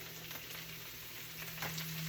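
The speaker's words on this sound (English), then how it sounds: "You hear that sizzling?" Chard and garlic sizzling in proper oil in a pan, a steady close frying hiss throughout, no talk.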